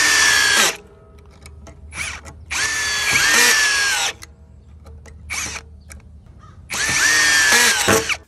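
A Bauer cordless brushless drill with a 3 amp-hour battery whirs in several bursts, three long runs and a few short ones, with quiet pauses between each burst.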